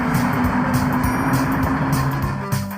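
Bertie the bus vrooms away in a race, a steady loud engine roar holding close and continuous before a sharp bump at the end.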